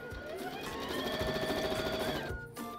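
A sewing machine stitches stretched elastic onto flat fabric, a rapid rattling run of needle strokes close by that slows and stops near the end.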